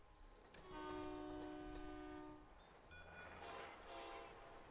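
A freight train passing in the SimCity city-building game, with a long steady horn blast and rolling rail rumble, then lighter clatter and hiss as the wagons continue by, loud and close with no talk.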